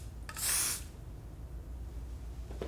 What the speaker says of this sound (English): see how no hairspray is getting anywhere except where I put it?